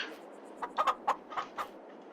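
A free-roaming chicken clucks in a short burst of five or six close, sharp notes, loud and alone with no talk.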